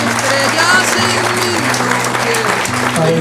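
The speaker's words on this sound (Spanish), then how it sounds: "Pido un fuerte aplauso" Audience applause fills a room during a Cuban health gathering, with steady close clapping running throughout while a low hum or tonal voices sit underneath.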